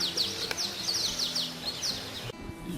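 Many small birds chirp and tweet in quick repeated high calls at Lutembe Bay wetland in Uganda, a steady chorus over a low background hum, ending with a brief soft thud.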